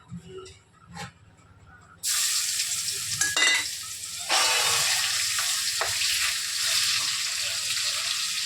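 A few quiet clinks, then a sudden loud sizzle as garlic hits hot oil, crackling steadily with occasional stirring scrapes.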